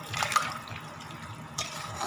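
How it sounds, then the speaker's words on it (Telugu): Water pours into a pot of drumstick curry, a continuous close gush and splash with a sharper burst partway through, no voices. "తగినంత వాటర్ పోసుకుందామండి"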